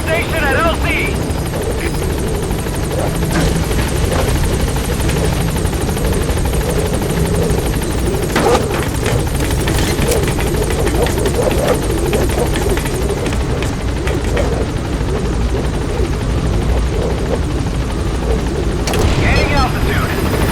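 B-Quad helicopter arriving at a landing zone in Metal Gear Solid 5, a loud continuous rotor roar and thrum that fills the whole stretch, with game radio voices speaking over it.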